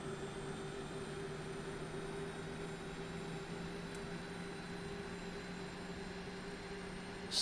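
The jet engines of an IXEG 737 airliner in the X-Plane 10 flight simulator give a steady, even drone with a faint high whine on top. It holds without change and no one talks.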